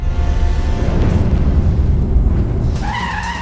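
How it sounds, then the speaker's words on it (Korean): Car chase from the Korean film Tazza: The Hidden Card, with tires skidding in a long, loud rushing screech over engine roar, ending in sharp, wavering squeals; no one speaks. "이어지는 자동차 추격신."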